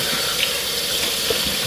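Faucet water runs steadily into a kitchen sink, a continuous close rushing splash at constant loudness, with no talking.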